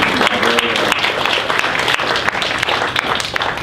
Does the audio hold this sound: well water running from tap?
no